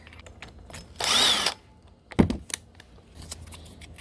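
A power drill bores into flywheel bolts on a 3800 engine in a short loud half-second burst, followed by a couple of metallic knocks and tool clatter.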